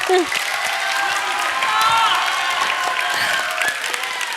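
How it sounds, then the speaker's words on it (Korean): Students in a classroom clap for a classmate who read aloud, a dense steady patter of hands filling the room, with voices mixed in underneath. "박수, 박수, 박수 한 번 주자"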